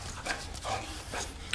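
Bulldog Campeiro dog panting with faint whimpers, short and close, a few soft breathy bursts over low background rumble.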